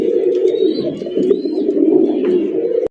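Red pigeons cooing continuously in a steady, close, low rolling call, with a few faint higher bird notes above, no talking.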